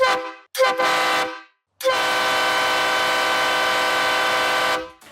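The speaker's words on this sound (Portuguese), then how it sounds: "a buzina de 3 cornetas tem um som bem direto" Three-trumpet train-style air horn fitted to a vehicle, two short blasts followed by one long sustained blast, loud, close and brassy, with near silence between the blasts.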